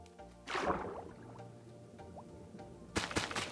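Splashing and bubbling water as a Minecraft player dives down through a column of water in a built water elevator, with a burst of splashing near the start and again at the end.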